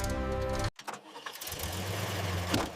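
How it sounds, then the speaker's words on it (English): A Land Rover Range Rover engine cranks with a steady low drone, cuts off abruptly, then after a short silence fires and settles into a rough, uneven running note, close and fairly loud. "The engine catches briefly and fires on a few cylinders before stumbling as the air clears out."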